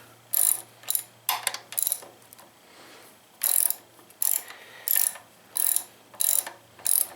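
A ratchet wrench clicks on the wheel nuts of a Honda Rebel 250 motorcycle in a series of short, crisp bursts of rapid clicking separated by brief pauses, close and clear.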